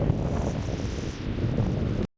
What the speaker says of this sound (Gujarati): ઓહો ફૂલ પવન ને ફૂલ ટાટ પડે છે.